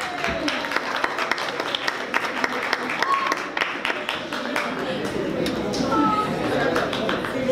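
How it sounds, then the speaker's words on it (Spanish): An audience at a music science talk breaks into sustained applause, a dense, even patter of many hands clapping with scattered voices mixed in throughout. "¡Un aplauso!"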